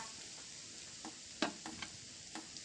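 Soft, steady sizzling of pork on a hot tabletop grill, with a few scattered crackles and light taps, fairly quiet with no talking.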